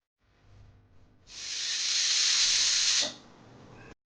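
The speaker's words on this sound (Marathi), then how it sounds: "कुकरच्या दोन शिट्ट्या झालेल्या आहे आणि यामध्ये आणखी थोडीशी वाफ आहे" A pressure cooker cooking masale bhat, a spiced rice dish, lets out a loud, steady rush of steam for about two seconds, then drops back to a quieter continuous hiss.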